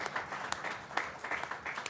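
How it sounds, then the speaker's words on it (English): Short burst of applause from a small audience at a town board meeting, several distinct hand claps scattered over a soft bed of clapping, fairly quiet and brief. "If we can give him a round of applause."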